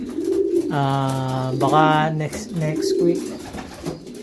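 Racing pigeons in a loft near Madrid, Spain, giving several deep, throaty coos close by while someone speaks briefly alongside them.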